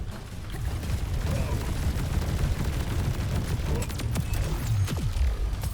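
Dense, rumbling gunfire and explosions while fighting a boss in Borderlands 4, a continuous roar of shots with scattered sharper cracks and a faint voice underneath.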